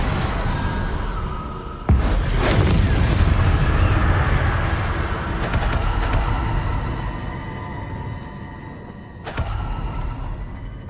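A Depulso force spell goes off in Hogwarts Legacy, bringing a loud booming burst with sharp impacts amid dense, roaring effects that carry on throughout.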